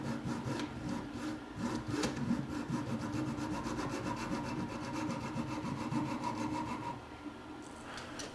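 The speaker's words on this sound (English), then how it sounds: "I've clamped the piece onto my crappy old vise, and I decided to try to cut the arm to the desired length" A hand saw cuts through a combat robot arm clamped in an old vise, steady back-and-forth rasping strokes in a quick even rhythm, close and continuous, slowing and stopping near the end.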